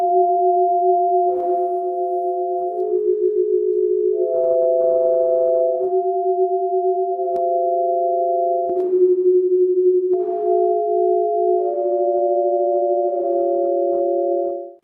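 Steady electronic sine-like tones, translating the colors of faces into sound portraits, shift between pitches in overlapping pairs, forming a slow, continuous sequence of sustained notes with brief soft noise bursts between phrases.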